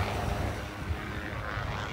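A helicopter flying passes over a beach in North Naples, Florida, giving a steady, fairly loud rotor and engine drone that holds even throughout with no voices over it.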